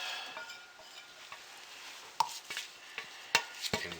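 A spatula scraping a soap or candle mixture out of a container into smaller containers: soft, irregular scraping and stirring strokes with a few sharp clicks and taps against the vessel, close and alone.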